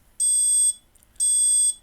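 A Raspberry Pi gas alarm buzzer sounds two shrill electronic beeps, each about half a second long, separated by a short pause, clear and close against near silence.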